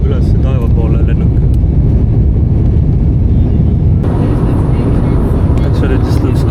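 A passenger airplane climbs into the sky over a city in the Philippines: a loud, continuous low roar, heard from close by, with a brief voice near the start and a shift in the engine tone partway through.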